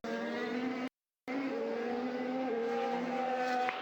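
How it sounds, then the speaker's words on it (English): A Formula 1 car's engine screams at high pitch in race coverage, with the tone shifting as the car spins into the barriers; a brief gap of silence cuts the sound early on. "a tank slapper into the barriers"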